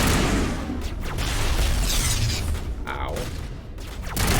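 Gunfire in the sci-fi shooter Mass Effect Legendary Edition, a dense, loud burst of weapon fire and impacts that keeps going throughout under brief voices and a pained grunt.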